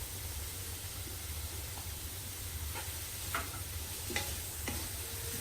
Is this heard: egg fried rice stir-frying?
yes